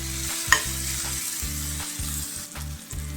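Onions fry with salt in a pan, a steady close sizzle broken by repeated stirring strokes in a regular rhythm, with one sharp clink of the utensil against the pan, and no voices.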